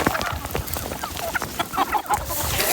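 Free-range farm chickens, corn-fed hens kept in a cave coop dug into a mountain rock wall, cluck in a busy, overlapping chorus of short calls at close range, steady and fairly loud throughout.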